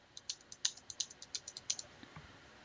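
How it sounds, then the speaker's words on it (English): Someone keys in numbers on a calculator keypad: about a dozen quick, light clicks in an uneven run, close and quiet in a hushed room. "you just start typing in the numbers and pressing enter after each one"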